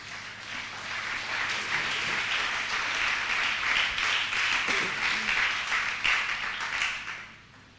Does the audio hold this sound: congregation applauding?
yes